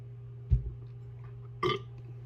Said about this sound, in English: And I'm about to burp soon, so excuse me.